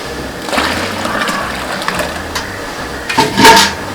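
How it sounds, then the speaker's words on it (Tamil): Lentil cooking water poured into a large pot of rasam being cooked in bulk for 150 people, a soft splashing pour with clattering, ending in a louder burst of liquid and utensil noise. "பாருங்க, பருப்பு தண்ணி ஊற்றிடலாம்."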